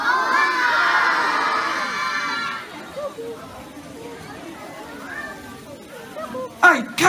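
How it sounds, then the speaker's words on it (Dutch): A group of children at a camping holiday-week show shout loudly together to wake someone, a dense crowd of young voices that fades into chatter, with a few sharp bursts near the end. "Tel ik even aan van 3 en dan roep hem wakker"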